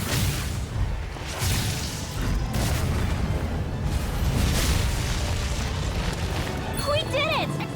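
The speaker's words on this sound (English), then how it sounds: "We did it! Explosion!" A booming explosion attack in the Tales of Arise battle on the moon: dense, loud, sustained rumbling blasts that fill the whole stretch, with voices calling out over the fight and a brief whooshing sweep near the end.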